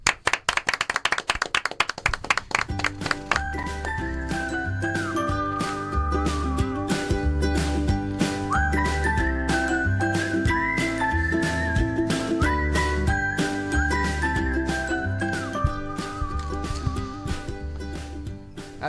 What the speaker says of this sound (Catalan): Jordi Buixareu Buixa, amigues i amics, un aplaudiment.